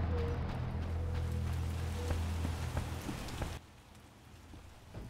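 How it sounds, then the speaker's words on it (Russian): Heavy, cold night downpour in The Witcher, a steady dense hiss of rain with scattered drops, fading to a quieter wash toward the end. "Такой ужасный ночной холодный ливень."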